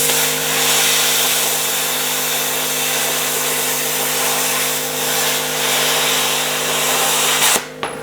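A YesWelder CT2050 plasma cutter slicing through 3/8 inch steel, a loud, steady hissing roar over a constant electrical hum that runs for several seconds and then cuts off abruptly.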